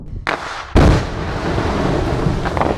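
Giant boulders blocking Old Forest Hill Road near Mammoth Bar are blasted apart in a controlled explosion. A small crack comes first, then a loud, sharp boom. A long rumbling roar follows and stays heavy and sustained.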